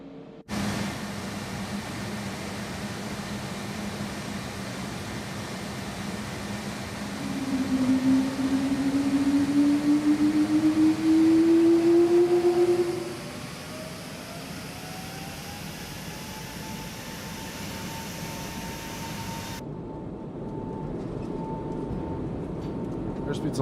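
Airbus A220 jet engines spooling up in a flight simulator game, a steady broad roar with a rising whine that swells louder midway then settles to a constant hum.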